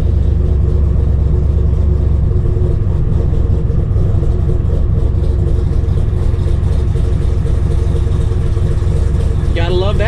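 A 7.0L LSx V8 swapped into a Mazda RX-7 idles steadily right after its first start, a loud, continuous low rumble with a slightly rocky, uneven pulse, throttle untouched, ending with a brief higher-pitched squeal.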